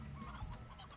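A chicken clucks in the video game Slime Rancher, a brief burst of clucking set against a dense, busy background of game ambience.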